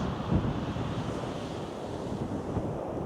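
Cold wind blowing on the coast at Chesil Cove, roaring and buffeting the microphone continuously, with the broad wash of surf mixed in, loud and steady with no talk.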